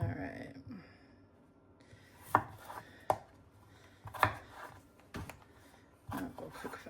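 Knife cuts through small potatoes on a cutting board in a few separate sharp knocks, close by, with a person talking quietly in between.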